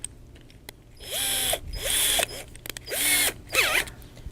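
A battery drill with a nut driver tightens clamp nuts in several short bursts, each spinning up with a rising whine and then stopping, with clicks and brief gaps between runs.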